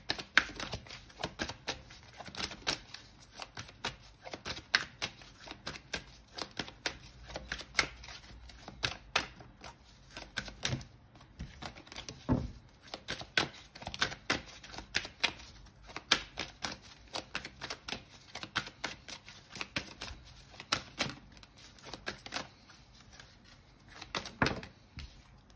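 Tarot-style cards shuffled for a card reading, a long run of crisp close flicks and riffles arriving in quick irregular bursts, fairly quiet and uninterrupted by speech.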